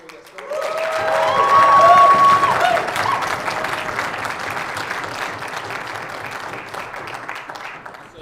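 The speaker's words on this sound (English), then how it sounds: "Let's have a round of applause for all the teams before we get started" Applause from the audience in a debate room at the World Universities Debating Championship in Thessaloniki, swelling quickly to a full, dense clap that peaks early and slowly thins out, loud and sustained.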